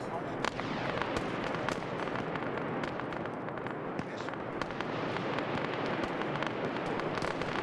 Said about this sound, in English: You have mortars now coming out.